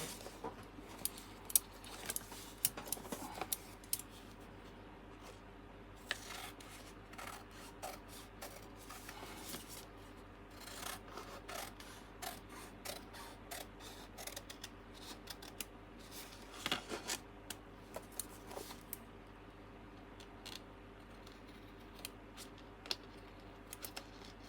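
Scissors trim paper down for a junk journal page, with quiet repeated snips and rustling paper rubs scattered across a long, faint stretch with no talking.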